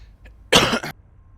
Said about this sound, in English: I was coughing and forgot to unmute